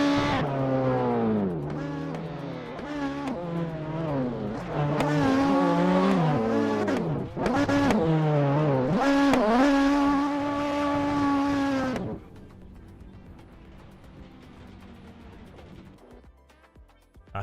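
A race car in the Assetto Corsa video game revs hard through repeated gear changes, engine pitch climbing and dropping loudly for about twelve seconds before fading to a quieter idle-like hum.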